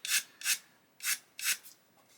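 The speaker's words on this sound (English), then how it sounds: "you're rolling the wing around as I go to get an even sanding" Sanding a plastic 1/72 Airfix Hurricane Mk.1 model wing while rolling it, four distinct rasping strokes in an uneven rhythm, close and fairly quiet, with no talk.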